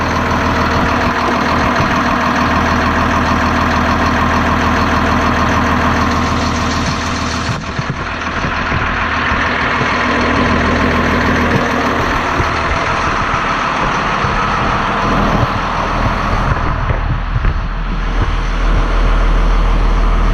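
The diesel engine of a 2006 Bluebird Vision school bus idles loud and close, a steady low rumble lasting the full twenty seconds with some shifts in tone partway through and no talking.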